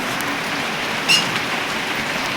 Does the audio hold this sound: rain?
yes